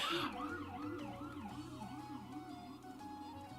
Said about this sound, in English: That's actually the same ambulance and sirens that went off to save me